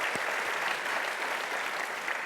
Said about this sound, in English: And we should clap for that,